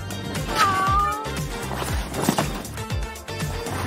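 A cat meows once, a rising and falling cry heard up close over a busy bed of music and clattering background sounds.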